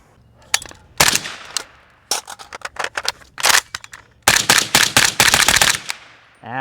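A PSA 300 Blackout rifle fires outdoors in loud, close shots, first single, then in uneven quick strings, with sharp cracks and short echoing tails between them.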